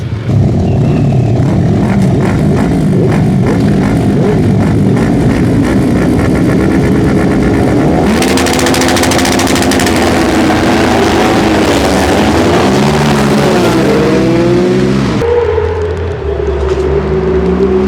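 Racing motorcycles roar past during the 400 race at Oliver's Mount, loud and close, their engines rising and falling in pitch as bikes accelerate and shift, with a sharp whine sweeping through near the end.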